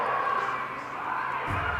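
In Assassin's Creed Valhalla, a crowd cheers outside, a steady distant murmur of voices and festive noise.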